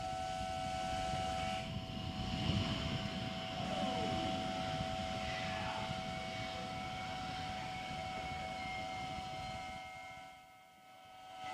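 A Blue Origin New Shepard rocket revs up during final checks before its sixth human flight, a steady broad roar with a whining tonal hum, heard from a distance, continuous and fairly faint, dipping briefly near the end.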